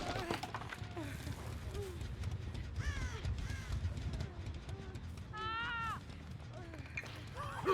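Seagull cawing in a video game: a few harsh, rising calls that recur over a low, busy background, with a voice talking over them.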